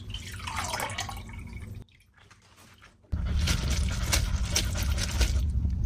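Water drains and drips from blanched tofu skin and vegetables in a sieve after a cold-water rinse, a steady close trickle that briefly drops away before a heavier, continuous splashing run of liquid.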